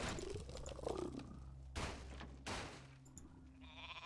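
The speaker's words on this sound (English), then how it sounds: "It's a sheep." A sheep in the video game Warcraft 3 Reforged gives a couple of short, wavering bleats. Abrupt game effects and sharp bursts follow.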